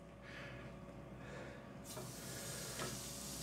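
Pork chops hit hot oil in a preheated air fryer basket, giving a steady, close hiss that swells into a louder, brighter sizzle about halfway through, with no talking.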